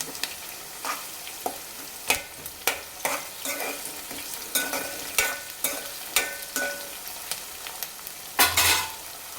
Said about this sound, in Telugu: పచ్చిమిర్చి అయితే మంచిగా కలుపుకోవాలి మంచిగా మగ్గించుకోవాలి బ్రౌన్ కలర్లో వచ్చేంత వరకు అయితే మనం మగ్గించుకుందాం